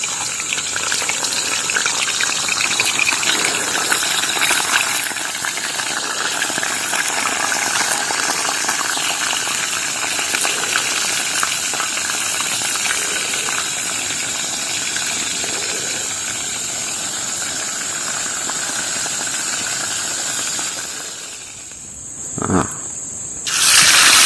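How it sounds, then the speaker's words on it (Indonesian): Fish sizzling as it fries in hot oil, a steady loud hiss and crackle that runs continuously, with a brief louder burst near the end. "Ini panaskan dulu minyaknya, baru dimasukkan ikannya."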